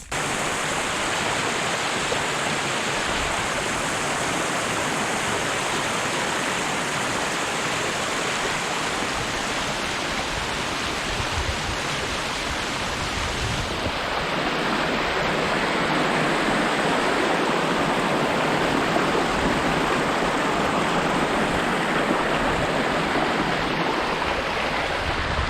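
Rushing water from a waterfall makes a continuous broad roar, steady and fairly loud throughout, with its tone shifting slightly partway through as if the listener moves closer.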